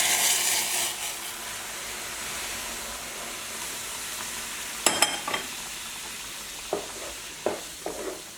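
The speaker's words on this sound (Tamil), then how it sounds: "இப்போ அந்த வெந்நீரை இதில் சேர்த்து கிளற வேண்டியது" Roasted flour being stirred after hot water is poured in for modak dough, a soft steady steam hiss with a few sharp sizzling bursts and scraping strokes later on, close and fairly quiet.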